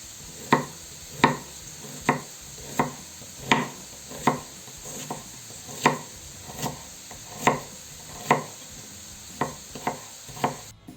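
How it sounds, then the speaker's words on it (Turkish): Steady knife chops on a cutting board while thinly slicing onions, about fifteen crisp taps at an even pace, with a faint background hum. "Ve şöyle piyazlık olacak şekilde doğrayalım ince ince."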